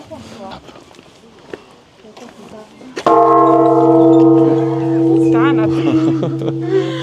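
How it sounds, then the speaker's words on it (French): A large temple bell at a shrine on Miyajima island, Japan, struck once loudly and close, its deep resonant tone sustaining and slowly fading under crowd chatter and footsteps. "cloche a fait sursauter tout le monde là."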